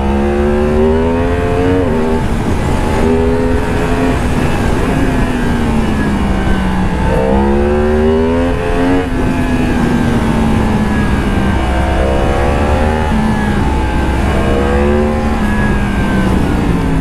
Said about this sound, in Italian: Il freno motore, io non sto frenando, ragazzi, fa tutto il freno motore.